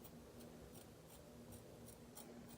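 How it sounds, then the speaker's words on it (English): Scissors trim hair with a steady run of quiet, evenly spaced snips, close by and fairly faint, with no talking. "as I'm cutting my hair."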